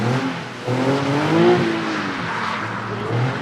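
A drift car runs laps at the Shiftech Drift Experience circuit in Fontenay-le-Comte, its engine revving and wavering in pitch at a moderate distance, with faint tire noise under the steady engine roar.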